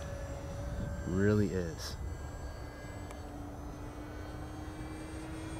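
H-King F6F Hellcat RC model warbird flying at its maiden outdoors, a faint steady motor whine in the distance beneath a brief burst of close talking.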